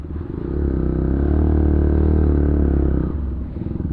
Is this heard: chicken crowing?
no